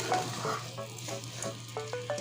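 Taro leaves (kochu shak) dry-frying in a pan without water, with a low continuous sizzle under soft scraping and tapping of a spatula stirring the greens, close and moderately quiet.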